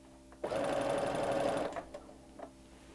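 A sewing machine runs steadily over T-shirt fabric for about a second, a loud even whirring buzz that stops abruptly, followed by a couple of faint clicks.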